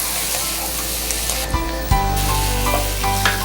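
Dried red chili paste sizzles in a hot pan, a close, bright hiss with a few sharp crackles and a sudden louder burst partway through, then settling into steady frying.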